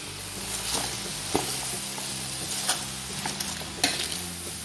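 Chard and cabbage stir-fried in a pan for shrimp yakisoba give a steady, close sizzle and hiss, broken by several sharp scrapes and clacks as the greens are tossed from the bottom up.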